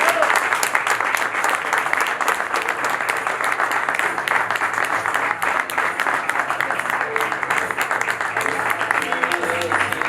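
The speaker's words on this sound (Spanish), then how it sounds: "recibáis con un fuertísimo aplauso a Ricard Journet" Sustained applause from a standing audience at a Startup Grind Mataró event, welcoming speaker Ricard Jornet onto the stage; dense, steady clapping from a large crowd continues throughout.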